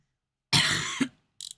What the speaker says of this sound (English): stop coughing my lungs up